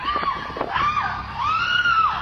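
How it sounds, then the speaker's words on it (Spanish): A woman screams after being knocked down from behind by a robber on a San Francisco street, giving long, wavering, high-pitched cries over street noise, loud and close. "Esos son los gritos de la víctima después de que un sujeto la sorprendiera por detrás y la tumbara para robarle."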